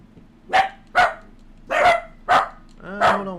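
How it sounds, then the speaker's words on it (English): Dogs barking nearby in a home, five distinct sharp barks spaced about half a second apart, loud and clear against a quiet background with no talk over them. "my dogs are barking"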